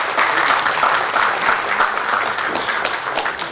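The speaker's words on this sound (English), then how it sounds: "Please let the applause continue." An audience at a corporate business quiz applauds steadily, a dense, even clapping that carries loud and close for the full few seconds without talk.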